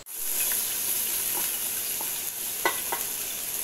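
Garlic fries in hot oil for beef shami kebab with a steady, bright sizzle, broken by a few sharp pops and spatters, with no one speaking.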